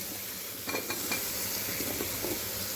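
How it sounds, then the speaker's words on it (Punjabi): Brinjal and potato pieces hit a hot pan and sizzle steadily, with a few clattering stirs and spoon knocks close by. "ਤੇ ਹੁਣ ਅਸੀਂ ਇਹਦੇ ਵਿੱਚ ਪਾ ਦਵਾਂਗੇ ਆਪਣੇ ਬੈਂਗਣ ਐਂਡ ਆਲੂ"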